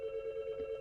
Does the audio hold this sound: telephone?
yes